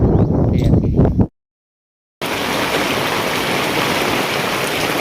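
Steady, dense rain pours down in a heavy, even hiss, preceded by a brief rougher stretch and a second of silence before the downpour resumes loud and close.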